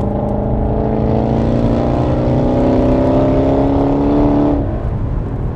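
Loud, sustained engine drone from a Volkswagen Arteon 2.0 TSI with DSG gearbox, heard from inside at speed with a strong low hum and layered tonal whine that holds steady, then eases slightly near the end.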